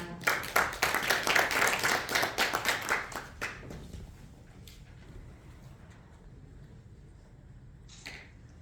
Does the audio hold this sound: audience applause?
yes